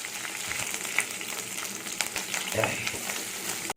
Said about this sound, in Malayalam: എന്നിട്ട് പച്ചമുളക്, ഇഞ്ചി, വെളുത്തുള്ളി, ഇത് ഇത്രയും കൂടെ നമുക്കൊന്ന് വഴറ്റാം